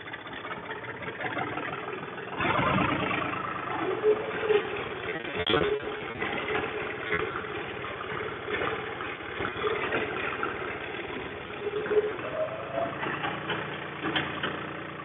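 A Deutz-Fahr Agromaxx 50E tractor runs at a steady mid-pitched engine chug as it turns, staying continuous and moderately close while someone talks over it throughout.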